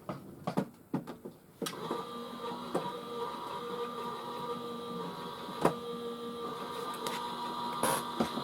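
An electronic craft cutting machine works a project on a magnetic mat, giving a steady mechanical whir and hum with a few sharp clicks and knocks near the start and brief spikes later, close and continuous.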